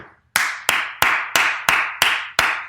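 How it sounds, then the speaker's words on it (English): Seven sharp, evenly spaced hand claps with a short ringing echo after each, loud and close in a quiet room with no talk. "when you clapped"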